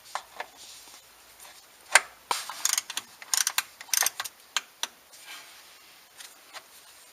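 A ratcheting torque wrench tightens a transfer case plug on a Ford F-150 4x4, giving close, irregular bursts of sharp metallic clicks separated by short pauses, with no voices.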